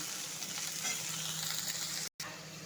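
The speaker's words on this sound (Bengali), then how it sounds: "এবার আমি সবজিগুলো দিয়ে দিলাম প্রথমে কিছুক্ষণ একটু বাড়িয়ে একদম সুন্দর করে সবজিগুলো আগে একটু হালকা ভেজে নেবেন" Vegetables sizzle and fry steadily in a pan, a continuous close hiss with faint stirring, briefly cut by a short gap near the end.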